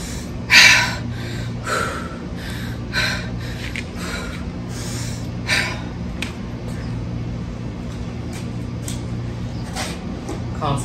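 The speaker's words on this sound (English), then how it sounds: "Concentrate on bringing your breathing back down." Heavy, rapid breathing after a high-energy cardio workout, with audible gasps and snort-like exhales repeating over a steady low hum, close and moderately loud.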